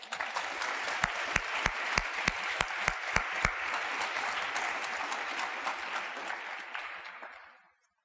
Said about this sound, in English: Please join me for a round of applause in honor of Carolyn Barber-Pierre and for her leadership